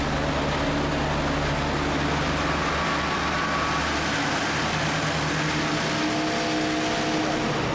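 A turbocharged Mercedes W123 with an OM 615 diesel engine holds a loud, sustained rev, its dense roar and whine continuing steadily with no pauses.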